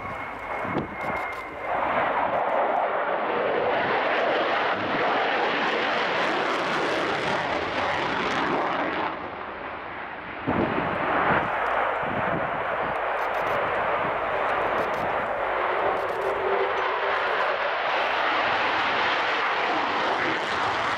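Sukhoi Su-27 jet engine roaring steadily and loudly for about twenty seconds, a broad continuous rumble with a brief dip in level midway before it surges again, close and sustained with no talking.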